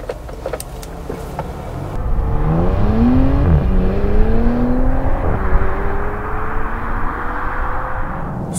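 A 2018 Bentley Continental GT with a 6-litre W12 engine accelerates from inside the cabin, its deep engine note rising steadily in pitch through the gears, loud and continuous with no talking.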